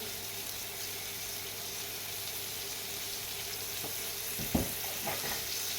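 Pork ribs fry in oil in a pan, a steady low sizzle and crackle running throughout, with a couple of soft knocks near the end and no voices.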